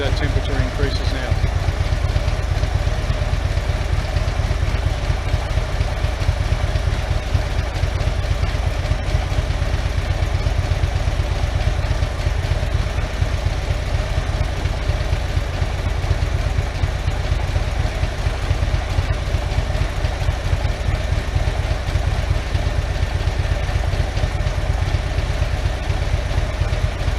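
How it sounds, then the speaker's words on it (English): A Harley motorcycle engine idles steadily with a dense low clatter throughout, loud and continuous, with powerful cooling fans likely blowing alongside and a voice talking over it. "we're on idle, so idle is the least stressful or the least heat producing situation on a motorcycle"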